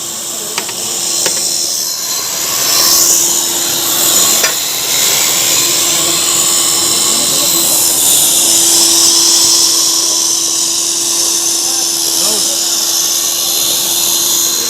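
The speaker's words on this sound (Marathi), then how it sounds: "हे वरण ड्रिलने पूर्णपणे घट्ट करून घेण्यात येत आहे" An electric drill whirs steadily through cooked dal in a home kitchen, mashing and thickening it for a Vidarbha-style brinjal curry; a loud, continuous buzzing hiss runs for the whole stretch without pause.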